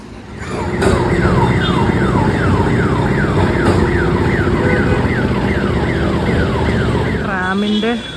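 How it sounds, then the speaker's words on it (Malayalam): Busy Kolkata street with a loud, warbling car alarm or siren repeating in fast sweeps over the rumble of passing vehicles, horns and engines close by throughout. "ഇപ്പോഴേ നല്ല സൗണ്ട് കേൾക്കുന്നുണ്ട് വണ്ടികളുടെ ഒക്കെ"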